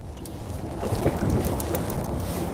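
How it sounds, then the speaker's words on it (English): Light, variable northeast wind sweeps across Oneida Lake in late March, a steady broadband rush and rumble that swells slightly midway and holds without any voices. "It's a little bit of a northeast wind. It's light and variable."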